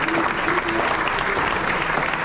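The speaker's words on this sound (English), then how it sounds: "let's give them one more round of applause" Sustained applause from a crowd at a basketball banquet, steady clapping throughout.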